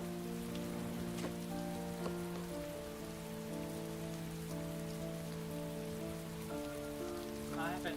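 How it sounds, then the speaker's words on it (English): Steady rain patters down continuously in a video game, Heavy Rain or Detroit: Become Human, beneath a layer of sustained musical tones, with no voices; a few brighter drips and chimes stand out near the end. "It's raining."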